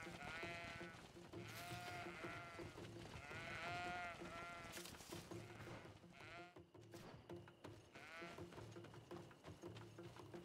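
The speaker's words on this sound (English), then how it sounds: "We're running with the goats." Goats bleat repeatedly in wavering, nasal cries over a busy soundscape in the game Greedfall, several calls overlapping in quick succession.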